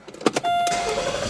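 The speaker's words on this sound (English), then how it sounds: "I'm going to fire up the car." A Rover 75 Connoisseur engine cranks briefly with a few sharp starter bursts, then catches and settles into a steady close idle hum.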